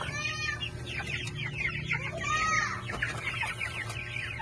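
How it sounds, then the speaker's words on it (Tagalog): Several farm chickens clucking and chattering together over a steady background hum, close by and continuous, with no talking. "Tayo sa mga alaga nating manok."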